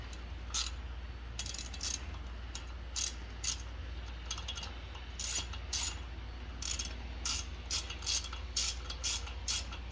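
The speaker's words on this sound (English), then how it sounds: "Then grab your ratchet." Short ratchet bursts tighten a brake caliper bolt on an Alfa Romeo during a brake and rotor job, quick clicking runs repeated at irregular intervals, close and fairly quiet over a low hum.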